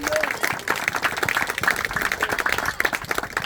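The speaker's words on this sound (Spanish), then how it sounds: "Denle un fuerte aplauso a Jesús." A church congregation claps together in a loud, dense burst of applause, many hands crackling fast and unevenly, with voices mixed into the clapping.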